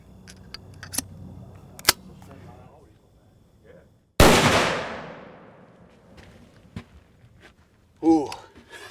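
A single loud, sharp blast from a hand cannon fitted with a 15-inch 30-06 Springfield barrel cracks out and decays over a second, framed by faint clicks of handling and a brief voice afterward.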